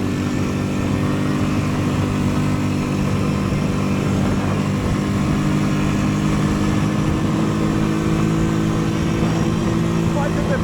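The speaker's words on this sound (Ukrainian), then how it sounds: "Але квадрик їде." A Loncin LX200ATV-U quad bike engine drones steadily and loudly while riding through snow in a forest, with wheels slipping on the snowy surface; the engine noise is continuous and close throughout.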